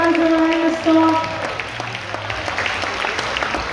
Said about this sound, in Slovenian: In zaključni aplavz za oba plesna para.